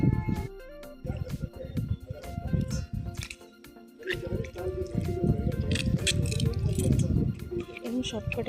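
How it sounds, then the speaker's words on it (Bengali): Ripe mangoes squished and mashed by hand, giving continuous wet squelching and dripping sounds close up, with a person talking over much of it. "সবকটা চটকে নিয়ে নেব বন্ধুরা।"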